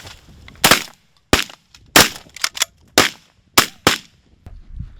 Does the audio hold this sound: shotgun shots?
yes